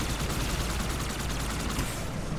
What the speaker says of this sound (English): What is shooting at me?